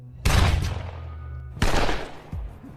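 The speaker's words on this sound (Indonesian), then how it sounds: "Frank yang tidak punya banyak waktu pun langsung menembaknya tepat di kepala" A film's gunshot to the head: two loud, sharp pistol-like blasts about a second and a half apart, each leaving a decaying ring, with a short voice heard near the end.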